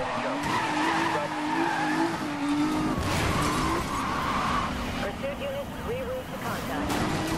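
Nissan 350Z skidding and sliding in Need for Speed Most Wanted 2012, with a steady engine roar and repeated tire squeals running throughout, loud and continuous, with a voice talking over parts of it.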